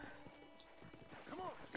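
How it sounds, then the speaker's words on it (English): Horse hooves clip-clop quietly in the Red Dead Redemption video game, with a brief whinny near the end, soft and low in level. "We're just going to get on our horse first."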